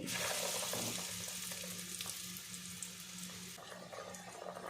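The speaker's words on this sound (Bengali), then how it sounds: "এবার আমি প্রথম একবার ভেজে নিচ্ছি" Jackfruit and prawn kobiraji cutlets fry in hot oil, a continuous loud hiss and crackle that stays steady without pause.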